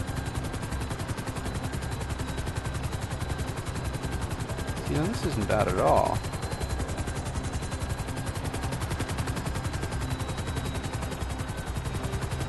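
Helicopter flying low and steady in the GTA V video game, a continuous rotor drone heard throughout alongside gunfire-like pulsing, with a brief louder swell midway and someone speaking casually over it.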